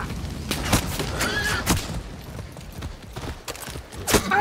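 A horse's hooves clip-clop in the video game Far Cry 6: irregular, fairly loud thuds and knocks spread through the clip, with a short whinny-like cry near the end.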